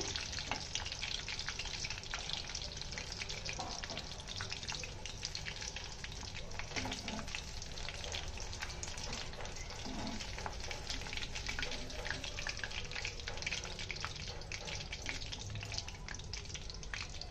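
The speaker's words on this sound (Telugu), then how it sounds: "ఇవి బాగా గోల్డెన్ కలర్ వచ్చేదాకా ఫ్రై చేసుకున్నానండి" Prawns deep fry in hot oil until golden, producing a dense, continuous bubbling sizzle that stays close and even throughout, with no voices.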